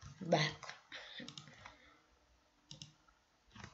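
Keys clicked on a computer keyboard in a quick burst, then several shorter isolated taps with pauses between, close and crisp, with a voice speaking over part of it.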